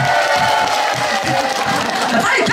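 Crowd applause mixed with cheering and shouting at a live Daejeon comedy show by Buddhri, busy and continuous with a sustained tone running underneath.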